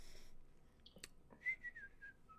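A person gives a short, faint whistle, a single gliding tone that slides downward, preceded by a couple of soft clicks and a brief breathy sound in a quiet room.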